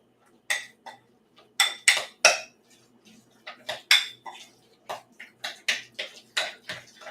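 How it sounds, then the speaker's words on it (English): A spoon stirs pineapple dipping sauce in a bowl, knocking and clinking against the sides in irregular bursts of sharp, close taps with short pauses between them. "I'm just going to kind of stir that around in here"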